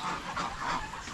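Farm turkeys, including hens and their chicks, give short, nasal gobbling calls, close and moderately loud in a brief burst.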